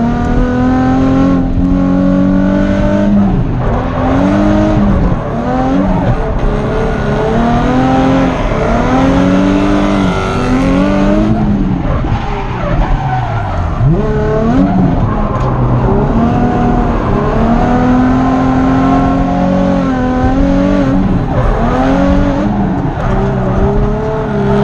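A drift car at Horse Thief Mile revs hard and swings through slides, its engine note rising and falling repeatedly with tire squeal and skidding throughout, loud and close for the whole run.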